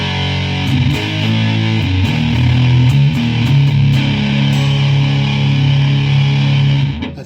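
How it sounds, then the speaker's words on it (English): Electric guitar played through a Suhr overdrive pedal for the core tone: thick, saturated chords and sustained low notes ringing loudly for several seconds, close and steady, with no talking. "my core tone is going to be centered around this Sun's pedal, which sounds like this."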